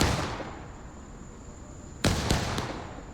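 Cannon fire in War of Rights, several Civil War artillery pieces on top of a hill: faint distant rumble first, then a sharp loud boom followed by two more quick blasts in close succession, with echoing tails.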